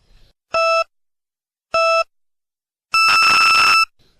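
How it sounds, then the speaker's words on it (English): Two short electronic beeps spaced about a second apart, followed by a longer, louder buzzing tone lasting nearly a second. "The starting beep will sound"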